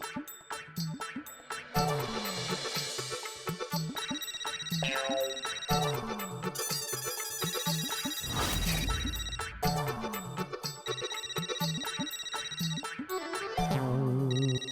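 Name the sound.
phone ringtone ringing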